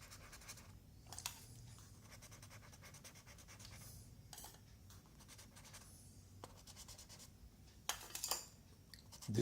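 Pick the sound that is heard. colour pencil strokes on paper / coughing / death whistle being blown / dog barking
colour pencil strokes on paper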